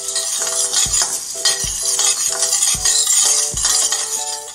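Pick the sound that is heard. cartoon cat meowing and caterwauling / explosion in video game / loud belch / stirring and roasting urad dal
stirring and roasting urad dal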